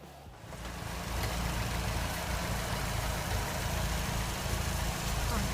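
A car engine in a cold garage struggles to start, giving a steady, loud low rumble that settles in after a quieter first second.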